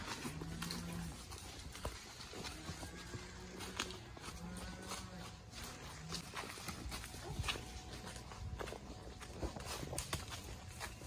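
A trail horse walks outdoors among cattle with a steady clip-clop of hooves, moderately close, mixed with rustling, scattered background noise and occasional voices.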